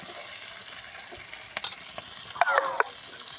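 Onions frying in a pan for a prawn curry, a steady sizzle with a few brief stirring scrapes and clinks near the end, heard alone without talk.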